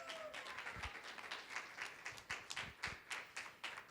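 A small lecture audience gives a scattered round of applause for a speaker after a talk on disability, distinct separate claps in loose bursts, fairly quiet and sparse.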